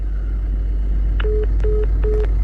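Three short electronic beeps at an even pace over a loud steady low hum, like a phone call cutting off.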